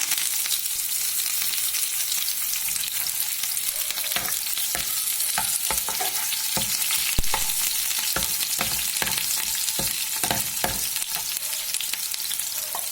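Green chilli and curry leaves frying in hot oil with onion for a baby potato curry, a steady loud sizzle with scattered crackles and pops, close and alone without talk.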